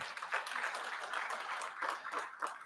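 A conference audience at a health ministry event claps in a brief, moderate burst. The many hands patter unevenly at mid-distance, with faint chuckles mixed in.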